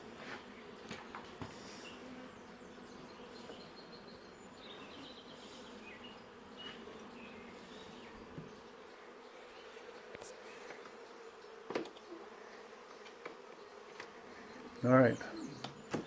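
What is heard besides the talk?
honeybees buzzing in a hive box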